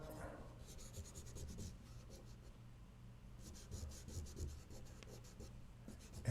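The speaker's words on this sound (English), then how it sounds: "I can erase my square now" An eraser rubs out pencil lines of a hen sketch on paper, a soft, close scratchy rasp that comes in repeated short strokes, pauses, then starts again.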